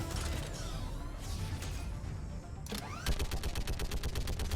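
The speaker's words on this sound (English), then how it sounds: "I get to shoot out of a turret?" Turret gunfire in Mass Effect 3: after a few scattered shots and mechanical clanks, a rapid, evenly spaced burst of loud automatic fire hammers away up close.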